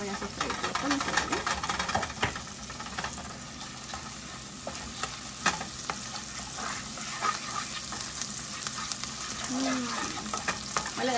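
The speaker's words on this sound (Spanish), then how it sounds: "voy a agregar un poquito de ajo en pasta. Y voy a sofreír con el sabor" Garlic paste sautéing in a pan for chili con carne, a soft steady sizzle with occasional stirring scrapes, fairly quiet.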